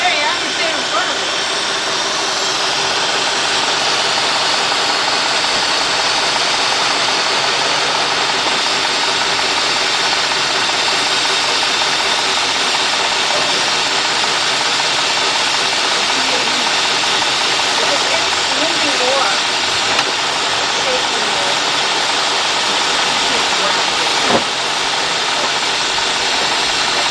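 A running Cadillac engine that idles rough, with a steady close airy hiss from an air leak layered over the low engine drone, constant throughout.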